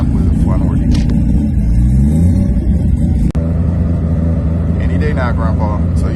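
A Mazda RX-7 with a three-rotor billet engine at a drag strip, a loud, close, rumbling engine drone that sweeps upward in pitch, with a brief sharp click partway through and someone talking over it.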